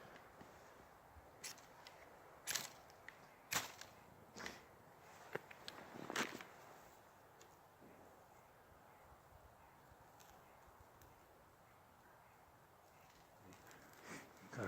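A ferro rod fire starter struck with the shotgun method in snow: several sharp, scraping strikes at irregular intervals, fairly close, over a quiet outdoor background.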